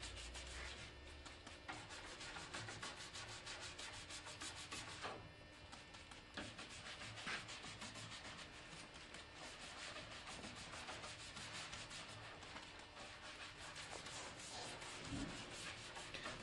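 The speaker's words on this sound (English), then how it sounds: "coming back with a cutoff brush, keeping that area wet" A cutoff brush scrubs a table wet with paint stripper in a continuous, faint rubbing rasp with steady back-and-forth texture and no talking.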